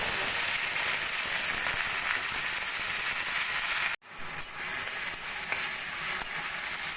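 Two large finely chopped onions fry in hot oil for a jackfruit kalia, giving a loud, steady, close sizzle. The sizzle cuts out briefly partway through and then resumes just as dense.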